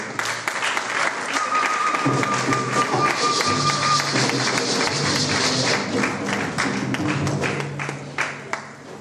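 Congregation in a church applauding and cheering the Lord as a woman approaches, dense sustained clapping with crowd voices and music tones underneath, loud and continuous throughout.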